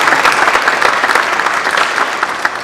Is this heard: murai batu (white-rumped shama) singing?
no